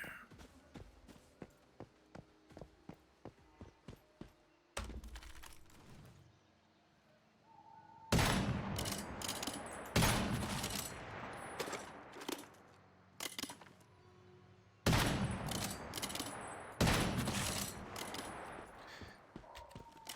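Sniper rifle fire in the game Once Human: several sharp, loud single shots spaced seconds apart, each with a booming tail, between quieter stretches of rapid ticking and footstep-like clicks.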